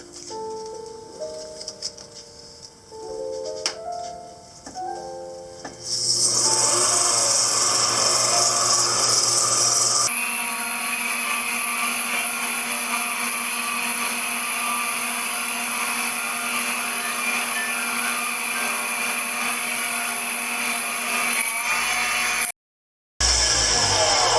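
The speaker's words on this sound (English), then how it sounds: "Lots of sanding, a shit ton of sanding, insane amount of sanding." Sanding a wooden bowl spinning on a lathe gives a steady, loud broadband hiss and whir that runs for about twenty seconds and cuts off briefly near the end, after a few opening seconds of lighter tonal tapping and clicks.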